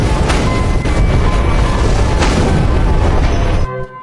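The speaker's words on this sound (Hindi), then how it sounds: "कैप्टन लाओमा और एक आंख वाला जनरल रह गए और इस तरह वे धमाके के साथ राख में बदल गए" A loud, sustained roaring film explosion blast rumbles on for several seconds with dense low-end boom, then cuts off abruptly into near silence.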